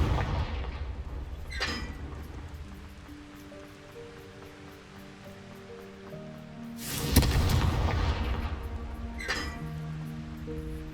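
A Confringo fire spell from the Hogwarts Legacy video game bursts with a loud, sharp blast near the middle, followed by a brief crackle, over low ambient game music with a smaller burst early and another near the end.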